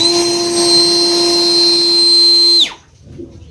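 A battery-powered turbo air blower runs loud and close with a steady high whine, then cuts off abruptly and spins down, leaving quiet.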